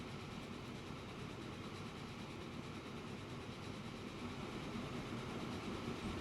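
A train with nine cars runs in the rail simulation game Transport Fever, giving a steady low rumble and faint wheel clatter that holds at an even, quiet level and grows slightly louder toward the end, with no talk over it.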